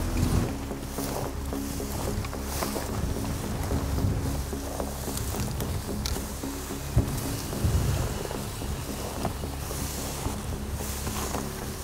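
Wind gusts roar and buffet steadily across open public land in Kansas during a deer hunt, a broad rushing rumble with occasional louder thumps, no voices.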